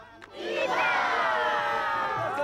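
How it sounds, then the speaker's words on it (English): Dense crowd of squatters shouting and cheering as they run through a seized farm field in Zimbabwe, a loud swelling roar of many voices that rises within the first half second and holds. "this running, dancing crowd of eager squatters has swelled to a human river coursing through a seized field"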